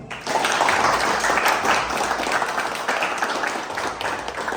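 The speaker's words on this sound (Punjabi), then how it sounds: "ਤਾੜੀਆਂ ਮਾਰ ਦੇ" A small group in a gym claps steadily in a dense burst of applause that carries on evenly from start to finish.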